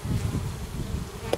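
Honeybees of a Carpatica colony buzzing inside a Miniplus hive, a close, steady low drone with small fluctuations as individual bees pass near.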